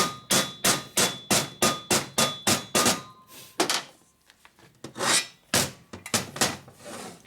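Hammer blows on Harley-Davidson 1974 74ci shovelhead engine parts during a valve job and rebuild: a rapid regular series of sharp metallic strikes, then a pause with rustling handling noise, then further irregular louder hits, close and without talk.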